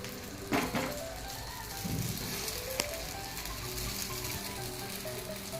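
Appe batter sizzles gently in an oiled appe pan, a soft steady frying hiss with a few faint clicks and bumps.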